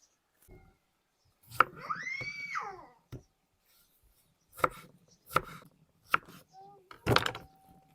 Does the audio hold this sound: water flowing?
no